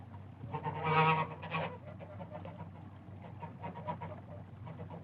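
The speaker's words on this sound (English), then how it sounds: "and there were geese." Geese calling outdoors in a natural setting, a cluster of honking cries near the start that fade into fainter scattered calls over a steady low background hum.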